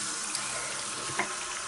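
Tap water runs steadily into a sink onto a facial sponge, a close continuous splashing rush with a couple of small drips.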